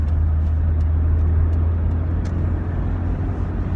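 A car's engine rumbles steadily in close-up with a low, constant hum of road noise, as if heard from inside a vehicle in traffic, with no talking.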